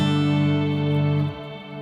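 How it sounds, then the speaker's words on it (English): Electric guitar played through an amp with reverb switched on, a sustained clean chord ringing out steadily before it cuts and leaves a softer decaying tail. "reverb, rings out clear and clean."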